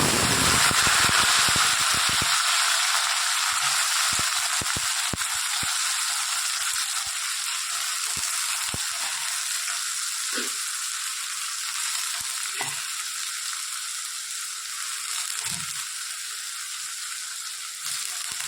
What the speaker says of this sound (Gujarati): આપણે આગળ વઘાર કરીએ. આમાં લવિંગ નાખીએ, 2-3 કાળા મરી નાખીએ,